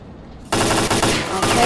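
Automatic gunfire in the video game S.T.A.L.K.E.R.: Clear Sky at a construction site, a loud sustained burst of rapid shots that kicks in suddenly after a quiet moment and continues to the end.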